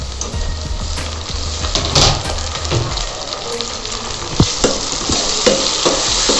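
Chopped tomatoes frying and being stirred in a pan while cooking vegetable pulao at home, a steady close sizzle with scraping stirs and occasional clinks throughout.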